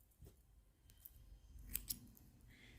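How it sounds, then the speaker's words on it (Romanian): Scissors snip crochet yarn while a crocheted cardigan is finished: two quick, light metallic cuts close by, faint against quiet handling noise. "Acum tăiem firul."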